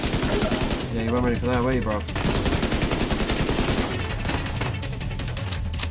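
Rapid gunfire from a firefight in The Division 2, loud and continuous with dense bursts, heard under someone talking over it.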